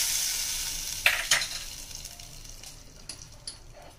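Hot tempering of cumin, curry leaves and a pinch of asafoetida hits a pot of sambhar with a loud hiss that fades into a soft, steady sizzle, punctuated by a few light metallic clinks.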